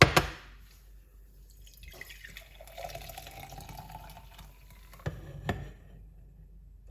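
Beetroot, ginger, lime and clove drink poured out, giving a soft liquid trickle with a steadier stream in the middle, a few sharp clinks and a knock near the end, and no talk.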